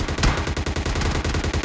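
Dense, rapid gunfire from the video game PUBG Lite, a loud burst of shots with overlapping bangs and a heavy impact early on, continuing as close, busy firing throughout with no talk.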